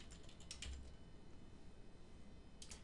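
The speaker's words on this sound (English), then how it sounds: "Hit the enter key." Typing on a computer keyboard, with a cluster of key clicks near the start and another burst at the end, faint and close with a steady hiss under it and no voices.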